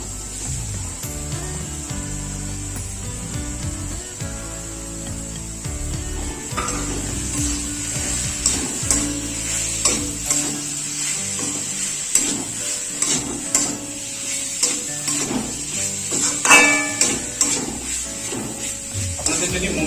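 Shredded chicken sizzles in a pan with spices while being stirred, a steady frying hiss with scraping strokes that grow busier toward the end, set against a constant background.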